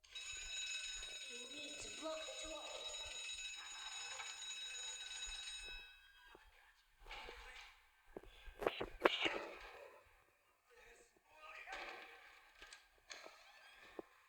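An electronic alarm rings in a video game as a steady, shrill, multi-tone ring that holds for several seconds before cutting off, followed by quieter scattered clatter and thumps.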